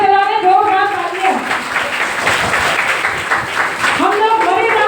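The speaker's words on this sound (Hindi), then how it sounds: "जोरदार तालियां।" A crowd at a Shrimad Bhagwat Katha gathering breaks into loud applause that rises after a spoken line, holds for a few seconds and fades as a voice resumes talking.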